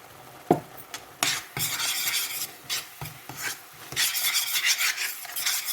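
A spoon stirs sugar and cardamom into a sweet mixture in a metal pot, making repeated scraping and rasping strokes that start sparse and grow denser and louder toward the end.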